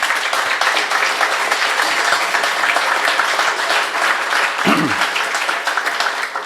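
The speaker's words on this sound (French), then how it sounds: "je pense que ça prend une bonne main d'applaudissements pour le REAI ici" Loud, sustained applause from a crowd, steady clapping filling the whole stretch with no break.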